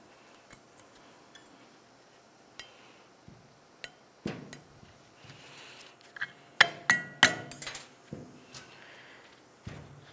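Thin metal tins are pried off the brake caliper bracket of a 1999-2003 Toyota Solara, giving scattered sharp metallic clinks and taps. A denser cluster of clattering hits comes near the end, close by with no speech.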